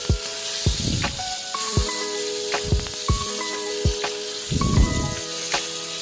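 Fish frying in hot oil in a wok for a Bengali-style fish curry: bursts of hissing sizzle come and go in waves, alongside faint metallic tones, close by and with no talking.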